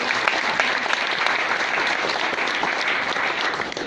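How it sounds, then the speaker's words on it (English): An audience at a Bitcoin film Q&A session in New York claps steadily, a loud, even crackle of many hands that holds evenly from start to finish. "Give him an applause."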